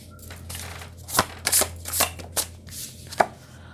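Tarot guidance cards being shuffled by hand, a series of close, crisp riffling bursts in quick succession, each a short papery flutter with a slap as the deck settles.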